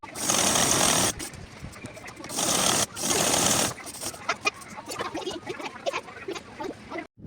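A sewing machine stitches a trouser seam in bursts, with loud steady runs of rapid stitching separated by pauses and lighter clicking handling sounds, close up.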